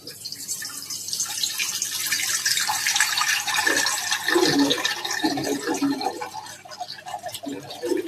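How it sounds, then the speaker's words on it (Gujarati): A jug of water poured into a kadai to boil pasta, a continuous close splashing gush with a faint voice underneath. "કઢાઈની અંદર પાણી નાખશું."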